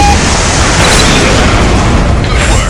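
A missile explodes in the aerial combat game War Wings, a loud, dense roaring blast that fills the whole moment and holds steady without letup.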